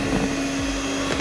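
Electric mixer running at its lowest speed, blending flour into black forest cake batter, a steady close motor whine with a constant tone and no break over the short stretch.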